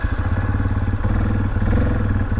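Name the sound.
engine of a Yamaha Kodiak 400 ATV being driven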